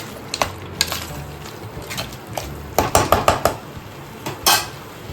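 A spoon scrapes and clinks against a pan while quail gravy is stirred, giving irregular metallic knocks in short bursts over a faint sizzling background, close and fairly loud, with no talking.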